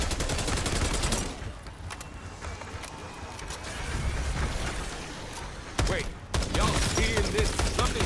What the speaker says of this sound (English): not a shotgun, but it felt like a shotgun